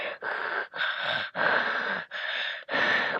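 A voice mimics Darth Vader's mechanical respirator breathing: six hoarse, rasping breaths in steady rhythm, each about half a second long with short gaps, close and fairly loud, with no talk.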